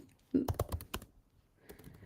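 Typing on a computer keyboard, a short quick cluster of key clicks close and fairly quiet, followed by a few lighter taps, with faint voice in the background.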